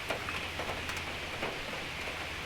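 Rain falls steadily on a surface outdoors during evening work on a 1999 Kia Sportage EX brake master cylinder, a soft continuous patter with scattered drops, close and fairly quiet, with no talk.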